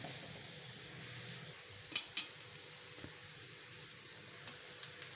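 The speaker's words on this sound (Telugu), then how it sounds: "ఆయిల్లోనే ఉప్పు కారం అన్నీ వేసి రాజ్మా ఉడికించిన వేసిన నైట్ నానబెట్టిన" Soaked and boiled kidney beans sizzle softly in oil with salt and chili, a low, even frying hiss with a few sharp clinks of stirring.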